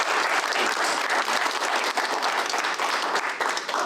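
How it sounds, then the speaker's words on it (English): A dense round of applause from residents at a city council meeting, loud and steady throughout with no talking over it. "So we all need a round of applause for that"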